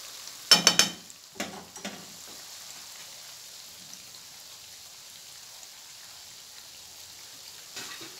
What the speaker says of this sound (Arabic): على ما نطيب هاد الشباكيه اللي عندي هنا